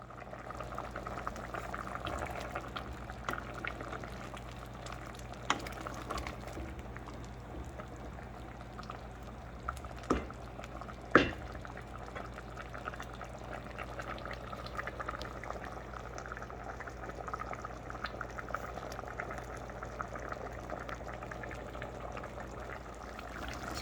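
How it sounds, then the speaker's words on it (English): Stew peas simmer under a lid in a pot on the stove, a steady low bubbling that continues at an even level throughout, with a couple of faint clicks near the middle. "Let it simmer for another 10 to 15 minutes."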